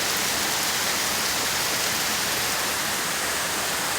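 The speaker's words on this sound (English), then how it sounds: "You see the waterfall behind me?" Storm water pours down in a heavy, unbroken roar like a waterfall, a steady loud wash of rain and runoff with no voices.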